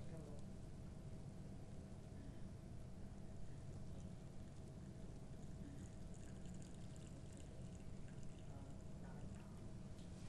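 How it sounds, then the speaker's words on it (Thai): Hot water from a thermos pours steadily onto a 20-gram sachet of instant coffee, a continuous soft gushing trickle lasting the whole stretch at an even, moderate level. "เทน้ำร้อนเลยนะคะเราก็ต้มน้ำร้อนให้เดือดๆหน่อย"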